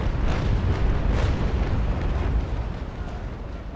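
Heavy cannon fire booms from a first-rate warship in the naval video game Naval Action, dense overlapping blasts rolling together into a sustained, loud rumble with no voices on top.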